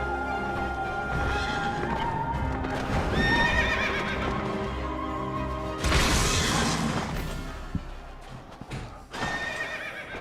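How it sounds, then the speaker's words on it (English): Final Fantasy XIV horse whinnying loudly, with clopping hooves and a thumping crash over a constant layer of game music, no one speaking. "Ooh, I like that horse."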